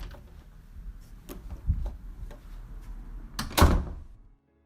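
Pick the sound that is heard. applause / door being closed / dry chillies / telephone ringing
door being closed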